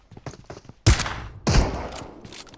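Gunfire in the mobile shooter PUBG Mobile: two loud, close bursts about half a second apart ring out over a few softer, scattered shots.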